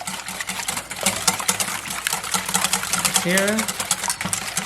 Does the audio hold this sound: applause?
no